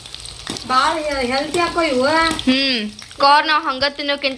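Crispy corn pakoda frying in hot oil gives a continuous sizzle. A person talks over it for most of the time, and the frying is partly masked beneath the voice.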